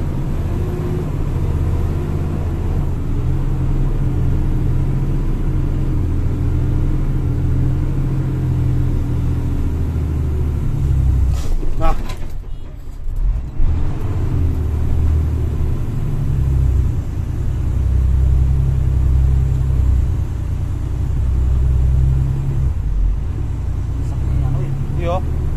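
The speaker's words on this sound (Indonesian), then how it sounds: "Gigi satu ini walaupun ngesi masih udah naik juga nih, karena dia jalan yang ngisap, bukan karena tenaga mobil ya." A car climbs a modest slope of soft, sucking dirt in first gear. Its engine makes a steady low rumble throughout, with a brief dip midway, while someone talks over it.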